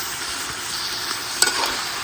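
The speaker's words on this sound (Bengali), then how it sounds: "এখন এই মশলার সাথে ভালোভাবে আমি আরো কিছুক্ষণ সময় কষাই নিব তরকারিগুলোকে" Bitter gourd, potato and eggplant sauté in spices, giving a constant close sizzle with one sharp clink of a stirring utensil partway through and no talking.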